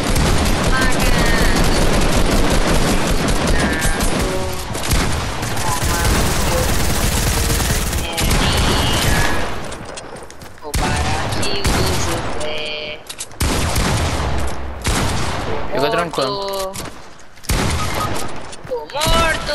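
Gunfire in a Free Fire-style shooter game rattles almost continuously in loud bursts and single shots, with brief gaps, while players talk excitedly over it.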